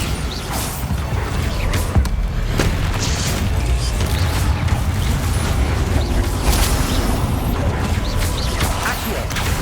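A Bombarda spell explodes in Hogwarts Legacy, a dense, sustained booming blast with crashing debris and creaking, loud throughout with a few sharper cracks.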